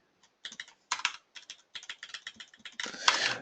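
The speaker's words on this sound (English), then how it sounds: "this is a lot of typing" Rapid typing on a computer keyboard, clear close-up bursts of clacking keystrokes with short pauses, ending in a dense flurry, no voices.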